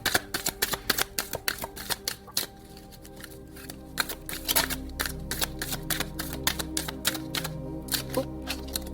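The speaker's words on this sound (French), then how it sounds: "je vais retirer 3 cartes d'introduction, d'énergie générale" Tarot cards are shuffled and flicked by hand in a quick run of sharp, close riffling snaps, then a pause. Slower, scattered card slaps and taps follow as the cards are drawn and laid down.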